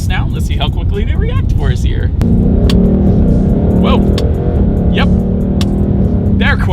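A Ford Mustang accelerates hard during a paddle shifter test, the engine note rising and holding as a loud steady drone, with a person talking over it in the cabin.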